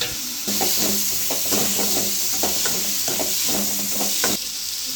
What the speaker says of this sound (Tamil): இப்போ நம்ம நறுக்கி வச்ச தக்காளி சேர்த்து நல்லா கலரி விட்டுக்கலாம்